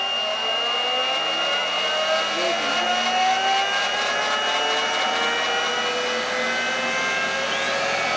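Turbine ground equipment spins up with a loud rising whine, several tones climbing steadily over a continuous roar, close and sustained.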